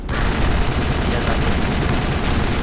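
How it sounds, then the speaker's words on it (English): Sustained assault rifle fire in the video game Mass Effect, a dense, loud continuous burst of rapid shots filling the moment without pause. "assault rifle carnage power"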